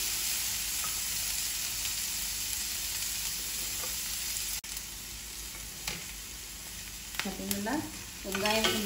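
Onions and garlic sizzle in a hot pan, a loud continuous frying hiss with brief scrapes of a spatula stirring near the end, close up.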